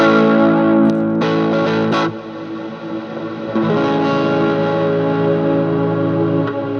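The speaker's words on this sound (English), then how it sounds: "That's the particle reverb" An electric guitar through a Line 6 M5 Stomp Box Modeler particle reverb, drenched in a shimmering, distorted effect, sustained chords ringing out with glitchy, granular textures and swelling tails.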